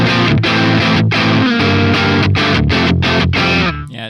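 A crunchy, distorted electric guitar tone from a Neural DSP Archetype Nolly X amp plays loud chord strums and riffs, with several short choked pauses, then trails off at the end.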